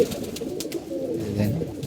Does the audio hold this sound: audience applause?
no